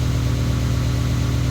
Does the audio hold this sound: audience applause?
no